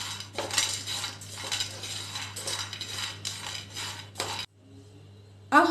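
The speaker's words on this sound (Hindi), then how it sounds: "और मैंने जो दाबेली मसाला तैयार किया था वो मैं इसमें डाल देती हूँ, और इसको अच्छे से मिक्स कर लेते हैं।" A spoon scrapes and clinks against a pan while dabeli masala is stirred into the mixture. The strokes come steady and repeated, close and clear, then stop briefly before one last clatter, with no talking.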